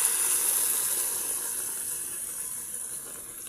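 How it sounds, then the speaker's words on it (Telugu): Water poured into a pan of frying tripe (boti) curry, a steady close rushing hiss that slowly fades over a few seconds. "వాటర్ అనేది వేసుకుందాం."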